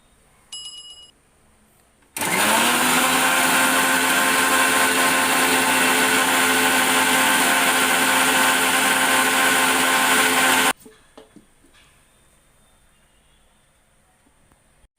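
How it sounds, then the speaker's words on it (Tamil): A mixer grinder whirs loudly and steadily for about eight seconds, grinding coconut with a little water in its jar for coconut milk, then cuts off abruptly into quiet kitchen clatter. "லைட்டாக தண்ணி ஊற்றி அரைச்சிக்கோங்க."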